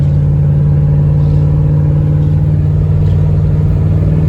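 A Dodge Ramcharger engine pulls steadily on a test drive, a loud, continuous low drone from inside the cab with no talking.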